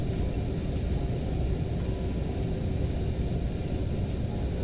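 Aerosoft CRJ airliner with the BORIS sound package in MSFS 2024, a steady low engine rumble and hum heard continuously from inside the cockpit, with no talk over it.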